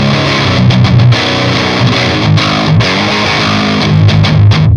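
Heavily distorted electric guitar riffs played through a cranked amp for a sludgy, classic metal tone, loud and dense with choppy palm-muted stops and chord hits, no voices.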